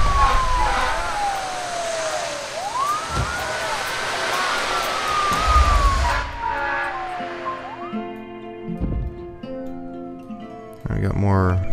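A wailing ambulance siren in the video game SimCity sweeps up and down over busy game noise and music, with voices talking over it; the siren fades partway through.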